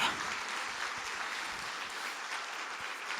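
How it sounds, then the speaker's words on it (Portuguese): A church congregation applauds together, a continuous wash of clapping that stays even and moderately loud from start to finish. "Se você crê, diga eu creio e aplaude o nome de Jesus"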